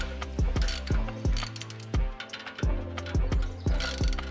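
A hand ratchet clicks in short bursts while snugging exhaust tip bolts on a Porsche 911 with a straight-piped exhaust, giving close, loud, repeated ratcheting strokes with brief pauses between them.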